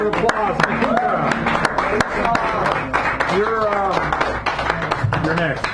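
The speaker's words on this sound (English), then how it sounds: "Give her a nice round of applause" A poetry reading audience at Sacred Grounds Cafe in San Francisco claps for the next reader, scattered sharp claps mixed with chatter and voices throughout.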